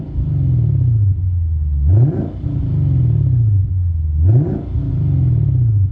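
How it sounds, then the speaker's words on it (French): Lexus RC F 2015 with a 5-litre naturally aspirated V8 revs twice, each blip climbing sharply then falling back to a deep idle burble; close, loud and heard alone. "C'est un son de V8 naturellement aspiré."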